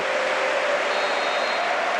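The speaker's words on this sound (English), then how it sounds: "just listen to the acclaim of the crowd. Well, he can milk the applause now." Football stadium crowd at San Siro applauding and cheering during an Inter versus Vicenza match, a dense, steady wash of clapping and roar held at even loudness throughout.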